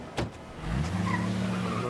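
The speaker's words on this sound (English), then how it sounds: "to check you have your phone first, before the cab pulls away" A taxi cab pulls away from the curb in a radio ad, a brief whoosh of passing engine noise followed by a steady, close car engine rumble as it drives off, with no talking.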